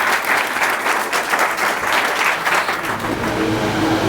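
An audience at a discussion event on cracking the BPSC exam claps vigorously, dense loud applause filling the room steadily without pause.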